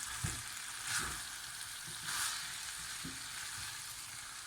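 Mint leaves and cashew nuts being stirred into a pan of vegan Hyderabadi biryani, with a steady sizzle underneath and several soft scraping strokes of a spoon recurring roughly every second, close and moderately quiet, with no talking.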